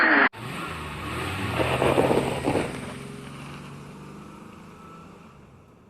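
Ferrari 488 GT3 race car engine in iRacing at Lime Rock, a steady droning roar that swells briefly midway then settles into a sustained hum, with no voices.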